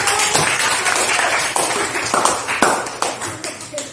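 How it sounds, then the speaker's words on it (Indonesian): A classroom group claps in a scattered burst, sharp overlapping hand claps for a few seconds, fairly close and lively. "Tepuk tangan untuk kelompok 1"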